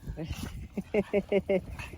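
A dog barks outdoors in a quick series of about five sharp, close barks, with softer yips and whines before them.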